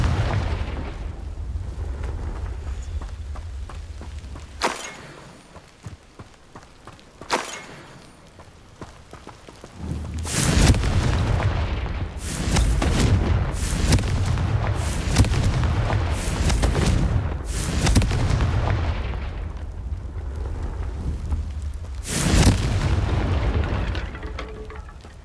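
Fiery Confringo spell blasts from the video game Hogwarts Legacy burst repeatedly, several loud booming explosions with crackling tails in close succession after a quieter opening stretch.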